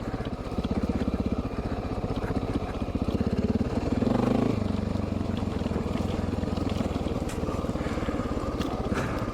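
A Honda XR650L motorcycle engine drones steadily while riding, a loud continuous throbbing thump that swells slightly midway and stays close throughout.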